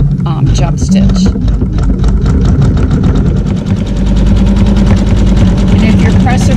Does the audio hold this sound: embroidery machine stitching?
yes